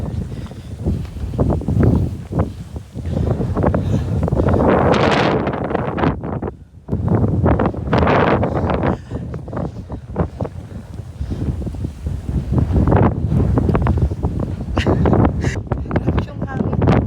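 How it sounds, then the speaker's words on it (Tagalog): Strong gusting wind buffets the microphone in heavy roaring bursts on a hike up Mt Sembrano, with people talking throughout and a brief lull midway. "Grabe yung hangin."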